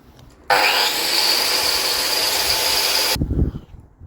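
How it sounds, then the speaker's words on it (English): A grinder works rust off a classic car's sheet-metal bulkhead, a loud, steady abrasive whine lasting nearly three seconds before cutting off abruptly, followed by brief low handling noise. "Let's grind all the rust off this."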